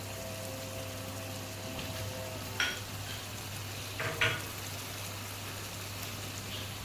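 Boneless Mughlai chicken handi masala with red chilli, turmeric, garam masala and coriander powder frying in a pot: a steady low sizzle over a constant hum, with two brief spoon scrapes partway through and no talking.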